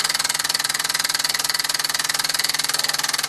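A 1949 Mamod SE2 model steam engine, rebuilt with its original parts, runs with a rapid, even chuffing beat, close and loud, constant throughout with no voices.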